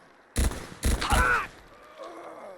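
A futuristic gun fires in Fallout 4, giving two or three close, loud bursts in quick succession, followed by a fading tail and faint game ambience.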